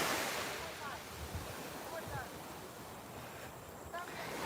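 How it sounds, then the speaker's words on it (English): Atlantic Ocean waves break on a beach in a steady, rushing wash of surf mixed with wind buffeting the microphone, with no distinct pauses between breakers. "And I really enjoy the waves."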